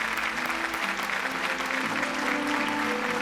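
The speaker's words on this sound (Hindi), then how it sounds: "तालियां इनके लिए।" A studio audience on a Hindi TV drama show applauds with steady, dense clapping for about three seconds, with faint tonal music underneath.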